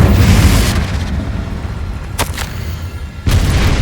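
A Confringo blasting curse exploding in Hogwarts Legacy combat: heavy, loud booming blasts and dense rumble, with a sharp crack midway and another forceful burst near the end, with no talking.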